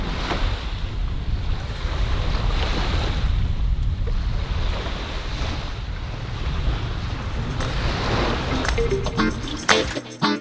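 Steady wash of waves on open water with wind buffeting the microphone, continuous and fairly loud, with a few knocks near the end.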